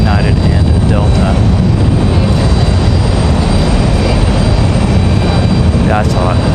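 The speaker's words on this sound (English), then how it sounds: "looks like we're going to have some rapid fire departures here between United and Delta" United and Delta airliners departing in quick succession at Raleigh-Durham airport produce a very loud, continuous jet roar that fills the whole span, with voices talking beneath the engine noise.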